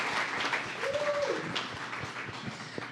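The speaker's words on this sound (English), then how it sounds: "Round of applause for Emma," Audience clapping at a community gathering, steady moderate applause from a crowd lasting a few seconds, slightly distant, with voices and a brief whoop mixed in.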